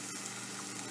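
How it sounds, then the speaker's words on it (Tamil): Water poured into a pan of mutton curry gravy with tomato, setting off a steady loud sizzle and bubbling hiss, close up and without voices. "ஸோ நான் இதில் வந்து வாட்டர் ஆட் பண்ணுறேன் கொஞ்சோண்டு."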